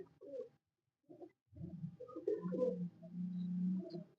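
An old pigeon, about twenty years of age, gives soft, low coos close by, first in a few short broken bursts and then in a longer rolling phrase.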